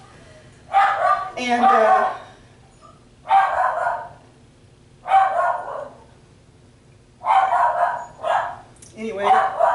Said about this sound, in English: the dog is barking, as you can tell